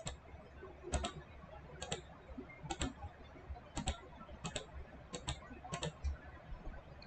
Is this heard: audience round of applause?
no